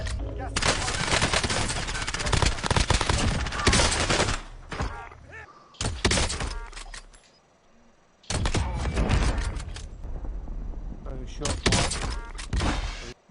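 KAR98 bolt-action rifle fire in a video game, loud bursts of gunfire and explosions filling most of the stretch with a brief lull in the middle, the shots sharp and close.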